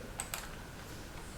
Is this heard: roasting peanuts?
no